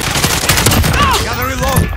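Dense, continuous video game gunfire rattles close and loud while whistling, swooping effects and muffled battlefield chatter layer over it.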